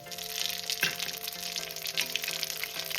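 Five-spice seeds and bay leaves temper in hot oil for a pumpkin and hilsa fish-head dish, with a close, fairly quiet crackling sizzle and a few sharp pops, heard alone with no speech.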